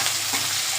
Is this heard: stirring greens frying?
yes